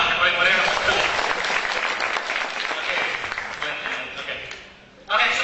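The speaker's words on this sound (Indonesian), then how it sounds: "Tepuk tangan lah yang paling meriah." Seminar audience in Indonesia breaks into loud, dense applause that holds steady for about five seconds, then fades and stops abruptly before a voice resumes.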